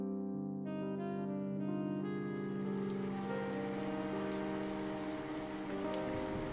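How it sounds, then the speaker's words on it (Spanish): Heavy rain beating against office windows as an audio drama effect, a steady dense wash that holds at an even level throughout, with no voices over it. "La lluvia caía con pesadez, convirtiendo la ciudad en un mar de sombras y reflejos distorsionados."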